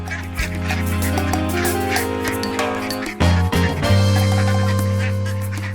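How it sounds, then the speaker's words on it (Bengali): Cartoon ducks quack in a flurry as they flee, bright nasal honks layered over a sustained musical background, with louder squawks bunching up midway through. "এই ধর ধর হাঁসগুলো পালালো"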